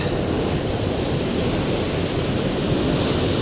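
Steady broadband rush of river water pouring through a rocky canyon beneath a small footbridge at Marble Canyon in Kootenay National Park, heard continuously and fairly loud with no voices.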